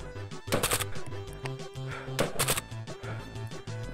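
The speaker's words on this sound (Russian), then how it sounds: "Еще гранаты закидываются." Gunfire and explosions from a war in Ukraine, with repeated sharp loud blasts and bursts of shots over a dense, rumbling background, close and intense throughout.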